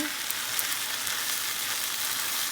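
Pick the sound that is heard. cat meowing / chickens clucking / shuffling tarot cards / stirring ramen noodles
stirring ramen noodles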